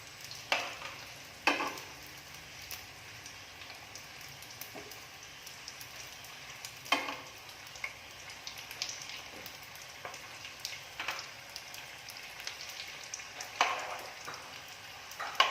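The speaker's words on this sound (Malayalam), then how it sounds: "എല്ലാ ഭാഗവും ഒന്ന് ഫ്രൈ ആയി വരണം." Chicken roll frying in a pan of oil for a Malayalam iftar recipe, giving a steady close sizzle with occasional louder crackles and stirring clatters, no voices.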